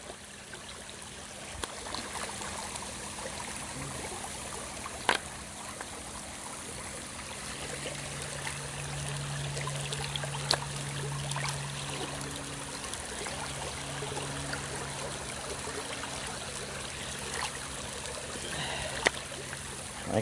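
River water streams and trickles through a gold sluice in an Ohio river, with rocks piled at the sides to channel the flow, making a steady close babble with occasional small splashes and a brief low hum.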